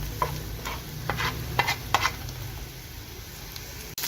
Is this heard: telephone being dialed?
no